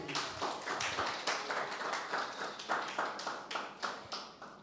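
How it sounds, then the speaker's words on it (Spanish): An audience at a church youth gathering applauding a speaker, a quiet room of hands clapping in a fairly steady rhythm, moderately near and lasting several seconds. "un aplauso para Valeria"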